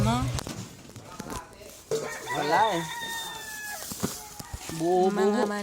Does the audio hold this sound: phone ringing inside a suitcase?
no